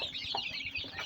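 Chicks cheeping and clucking together in a brief, close burst of soft chatter with no talking.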